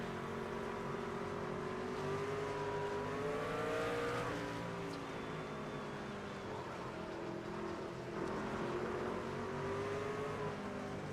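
Race car engines drone steadily in NASCAR 25 career mode as a car comes into the pits, a continuous mid-level hum with shifting pitch and no voices.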